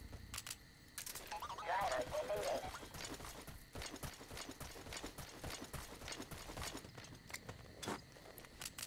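D-Horse's hooves in Metal Gear Solid V: The Phantom Pain, a steady run of clip-clop steps under speech and game sounds, with short louder bursts throughout.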